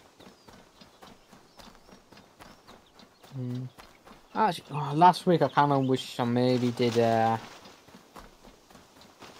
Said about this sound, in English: I keep forgetting I can just fucking summon the horse.